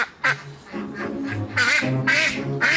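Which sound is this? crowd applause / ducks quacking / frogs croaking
ducks quacking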